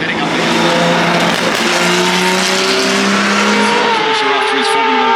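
At the Goodwood Festival of Speed, a brand new race car roars up the hill, its engine note rising and sweeping upward as it accelerates, loud and close, with a voice talking over it.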